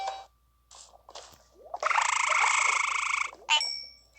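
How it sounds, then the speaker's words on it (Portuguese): A deformed frog monster in a video game croaks with a long, loud, buzzing tonal call, framed by shorter chirps and bursts before and after, clean and close. "O sapo deformado pode ser encontrado na Floresta Distorcida."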